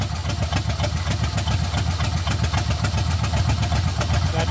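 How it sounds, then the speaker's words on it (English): A Ford flathead engine that sat unused for 55 years idles close by, with a steady, rough, rapid low chugging that runs continuously without pause. "Let it idle for a while."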